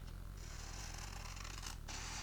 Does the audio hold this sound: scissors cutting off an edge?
yes